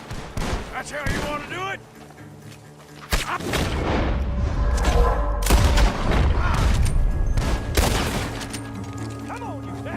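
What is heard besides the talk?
gunfire in Red Dead Redemption 2 video game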